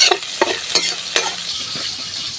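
Food fries in a pan with a loud, close sizzle, punctuated by a few quick scraping stirs in the first second, then an even hiss with no talking.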